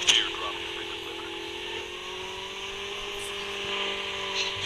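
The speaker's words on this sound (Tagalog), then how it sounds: "May sasakyan sa likod ko." A vehicle engine drones steadily behind the player in the video game Call of Duty, a sustained mechanical hum with a snowy outdoor game soundscape, while players talk over it.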